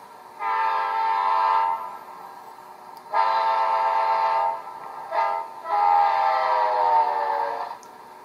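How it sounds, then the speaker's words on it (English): Rapido Amtrak F40PH model locomotive's DCC decoder sounding a Doppler train horn: four chord blasts, two long, a short stab, then a long one that bends downward in pitch, fairly loud with quiet gaps between. "F3 is your Doppler horn."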